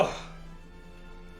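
A single sharp cough right at the start, followed by a quiet, fading room tone.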